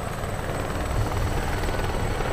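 A rescue helicopter hovers near a mountain, its rotor and engine making a loud, continuous throbbing roar with no talking.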